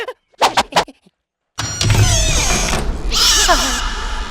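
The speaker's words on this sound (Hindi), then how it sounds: "ये बिल्ली की आवाज है या किसी चुड़ैल की आवाज है?" A cat meows and yowls in a spooky old mansion, with several short cries early on, then a longer stretch of loud, wavering, eerie wailing with other noise mixed in.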